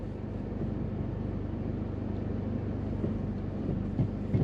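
A 4x4 fitted with a front diff locker reverses off-road through mud on mud-caked tyres, its engine giving a steady, close, low rumble that holds even throughout, with no voices.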